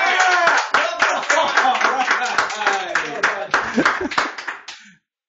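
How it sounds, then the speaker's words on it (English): A live studio audience claps and cheers at close range, a dense burst of hand claps mixed with whoops and shouted voices that thins and fades out near the end. "can everybody like clap and cheer?"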